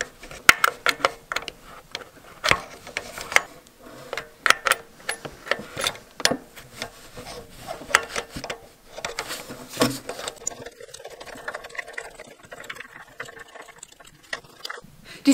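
A socket wrench ratchets while tightening Bosch spark plugs on a Smart 451, with close, irregular clicking bursts separated by brief pauses and light metallic handling.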